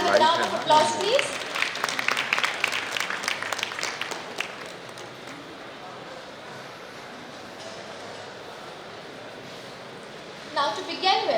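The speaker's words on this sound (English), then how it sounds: "Can we please welcome this stellar inaugural panel with a round of applause, please?" Conference audience at an international healthcare event applauding an inaugural panel. The clapping is loud and dense at first and dies away after about four seconds, leaving quiet hall ambience before a voice briefly speaks at the end.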